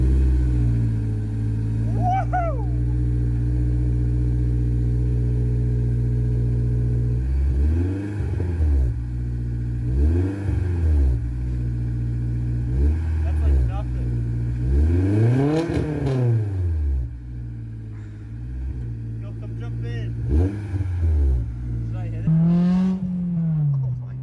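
A BMW M52 engine with a new exhaust starts up and idles with a deep rumble, then is revved repeatedly in sharp rising and falling bursts, loud and close, with occasional talking.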